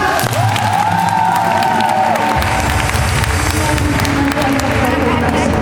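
Church congregation in a Filipino worship service breaking into loud clapping and cheering, a dense sustained wash of applause with voices and a sung or shouted phrase rising over it.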